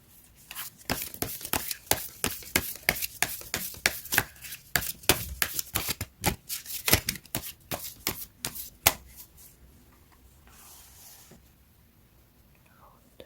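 Tarot cards shuffled by hand in quick crisp riffles and snaps, heard close up for several seconds, then a quieter rustle of cards being drawn, with soft speech at times.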